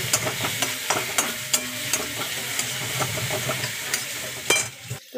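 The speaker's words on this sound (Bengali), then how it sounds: "এবার নাড়াবো কিছুক্ষণ।" Egg and vegetables fry and sizzle in a pan for Maggi noodles while a spatula stirs them, with a steady hiss under irregular scraping clicks and one louder knock near the end.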